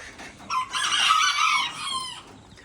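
A young Old English Game bantam cockerel of lavender birchen colouring lets out a single short, hoarse crow lasting about two seconds, fairly close and clear against quiet surroundings.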